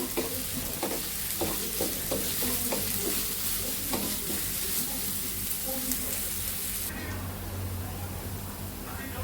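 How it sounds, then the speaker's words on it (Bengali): Onions and chilies sizzle and fry in a pan while being stirred, a steady hiss with repeated scraping taps of the spoon, running continuously without talk. "পেঁয়াজগুলো ভাজা ভাজা হয়ে গেছে"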